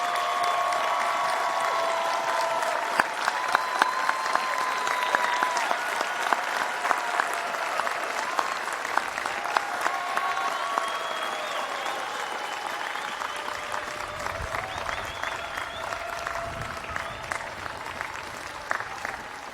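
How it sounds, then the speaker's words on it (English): Sustained applause from a graduate school commencement audience standing to honor family members and supporters, a broad continuous clapping roar with sharp individual claps, some whoops and cheers riding above it, fading slightly near the end. "Graduates, let's stand, turn, and applaud your family members and supporters here today."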